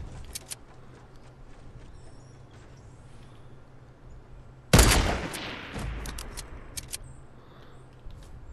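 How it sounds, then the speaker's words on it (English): Gunfire in a multiplayer shooter game: a burst of sharp shots erupts midway, loud and close, followed by scattered fainter pops and rumble, after a stretch of quieter ambient game noise with a low hum. "Where are they shooting from?"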